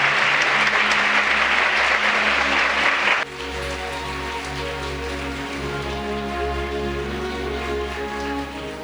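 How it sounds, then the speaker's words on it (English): Dense audience applause following closing remarks at an international youth peace conference fills the first few seconds, then cuts off abruptly to a quieter hall with a lingering hum. "Please give a warm round of applause to General Director Young-min Chung for that closing remarks"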